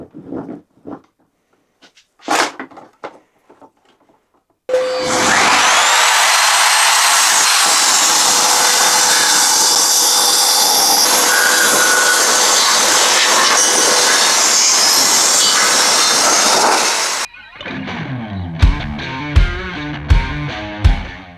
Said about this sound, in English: Cut this piece down to 38 centimeters or 15 inches roughly, and I need to make these so they're both the same thickness